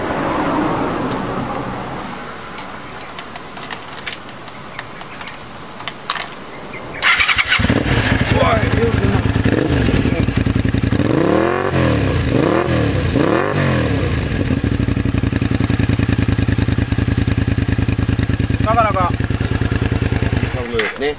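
After a quieter stretch, a motorcycle engine with about 100,000 km on it catches and starts, then runs loud and close with a rough idle broken by several sharp revs.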